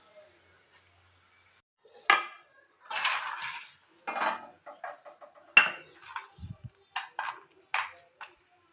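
Fried peanut bhajiya are lifted from a frying pan, giving a string of clinks and pings of a metal utensil against the pan, intermittent and close, with a couple of soft low thuds and no talk.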